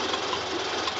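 A Citroën Type A car engine warms up at idle, a steady close mechanical chug with a faint knocking pulse running evenly through the whole second, with no voices.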